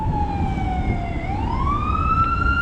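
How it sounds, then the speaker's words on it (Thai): A fire engine siren wails steadily, dipping and then rising in pitch, loud and fairly close over constant traffic rumble on a road down to Bang Saen beach, Chonburi, Thailand, in the morning. "ยายจิ๋มต้องชะลอให้รถดับเพลิงผ่านไปก่อนนะคะ"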